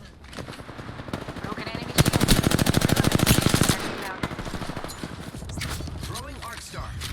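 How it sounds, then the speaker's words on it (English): Rapid automatic gunfire in Apex Legends, a dense burst of loud close shots with a faster volley in the middle, while someone talks over it throughout. "They're shooting at me!"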